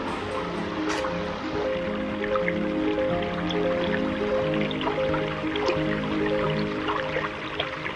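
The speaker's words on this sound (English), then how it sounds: "Alright, so I found this cool little waterfall here right behind me" A small waterfall on a creek pours in a steady, continuous rush and splash, with trickling and dripping water close by throughout.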